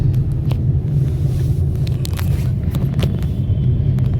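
A truck loaded with government ration grain drives through Badaun district in Uttar Pradesh, heard as a steady, loud low engine rumble and road drone continuing throughout without talk.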